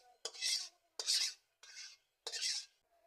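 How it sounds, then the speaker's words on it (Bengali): Boiled chow mein noodles are tipped from a pot into a white bowl, four short scraping, rasping pours in quick succession, close and fairly quiet with brief pauses between. "এর মধ্যে আমি চাউমিনগুলো ঢেলে নেব।"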